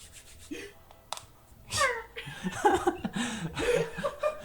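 A person imitates a cat's meow during a Fortnite game session, a few short, whiny, pitch-bending vocal cries mixed with chuckling and laughter at moderate loudness.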